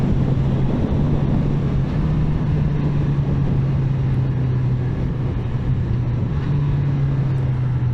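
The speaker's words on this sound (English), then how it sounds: "So the engine is a 4-cylinder" Honda CB1000R four-cylinder naked motorcycle engine on a test ride, a steady droning hum held at constant pitch throughout with heavy wind rush over it, no voices.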